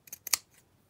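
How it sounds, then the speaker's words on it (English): Scissors trim the bottom edge off a paper craft with a few quick, close, crisp snips in rapid succession, then quiet. "So I'm going to just trim the bottom off slightly."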